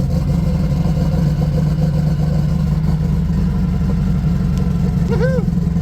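A turbocharged Volkswagen bus engine runs at a steady, loud idle with a deep low drone and constant rumble, close by and without speech.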